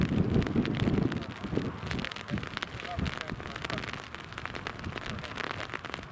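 Heavy rain during a storm at Newcastle Airport, a continuous hiss and patter of drops with wind buffeting the microphone, loudest at the start and steady throughout.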